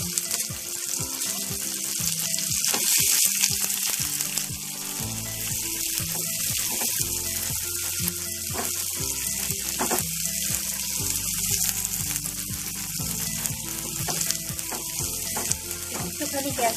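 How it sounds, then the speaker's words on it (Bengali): Chopped onion frying in a pan while cooking chicken keema kachuri, a steady crackling sizzle with stirring and clatter, close and continuous for the whole stretch. "এবারে দিয়ে দিচ্ছি আমি এর মধ্যে পেঁয়াজ কুচি পেঁয়াজ আমি কুচি রেখেছি পেঁয়াজ কুচিটা"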